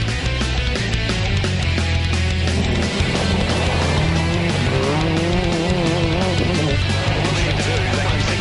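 World Rally Championship rally car racing, an engine roaring and shifting pitch over a constant loud mechanical backdrop that runs without a break.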